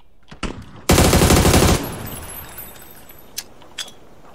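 Gunfire in a Chinese-language online shooter video game: a sharp single shot, then a loud burst of rapid automatic fire lasting close to a second, followed by a couple of isolated, fainter shots against quiet background.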